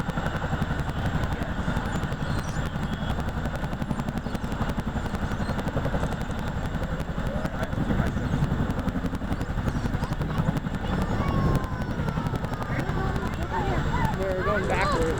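An RCAF Boeing CH-47 Chinook helicopter hovers at the CYOO airfield, its twin-rotor thump and turbine roar forming a dense, steady rumble throughout, with people talking faintly over it.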